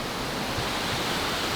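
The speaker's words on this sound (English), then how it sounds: "the melted water is rushing through and eroding the snow away" Snowmelt water from the mountains rushing in Alaska's Prince William Sound, a steady, loud, broadband hiss of flowing water that continues unbroken throughout, with no voices.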